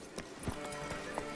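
Horse hooves clop at a steady gallop in The Witcher 3, a rhythmic run of hoofbeats under a constant game ambience.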